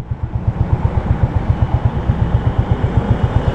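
A motorcycle engine idles close by on a street in Lahore, a loud, rapid, regular put-put chugging that holds steady throughout with no talking.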